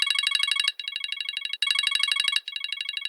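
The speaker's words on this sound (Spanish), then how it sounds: "pásame el celular para contestar" A mobile phone ringtone rings loud and close, a bright electronic warble in repeated bursts with short gaps between them, and no voices over it.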